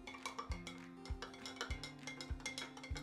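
Carrot and beetroot kanji ingredients being mixed in a bowl, a spoon knocking and clinking against it in a steady repeated rhythm of about five strikes, close and fairly quiet.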